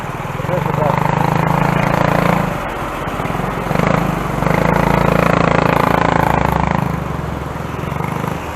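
A bus engine drones steadily in early-morning street traffic in Novaliches, loud and continuous with a slight dip midway, heard from a bicycle on the road with voices talking over it.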